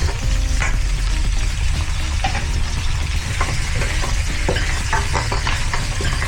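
Camel meat frying in a pan for caldereta, with a steady loud sizzle and occasional stirring scrapes running throughout, no talking.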